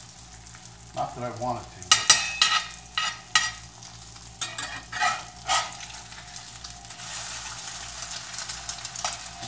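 An egg frying in a cast iron pan, a steady close sizzle with repeated scraping and stirring strokes of a utensil, under brief speech.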